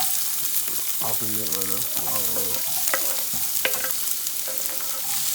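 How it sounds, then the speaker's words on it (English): Vegetables for egg rolls slide into hot grease and fry with a loud, steady sizzle and stirring noises, while a person talks briefly over the cooking. "Now we're just gonna slide the vegetables off in the grease"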